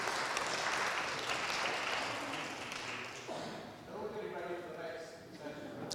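Applause from an audience at an accountancy institute gathering, a dense patter of clapping that fills the opening seconds and then thins out, with some talk continuing underneath.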